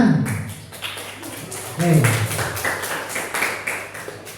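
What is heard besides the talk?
audience applause in a classroom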